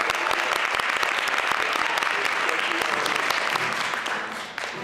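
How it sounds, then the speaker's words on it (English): Audience round of applause at a safe schools benefit show at Lehman College, loud dense clapping that holds steady for several seconds and then fades slightly toward the end. "So can we just get a round of applause for them?"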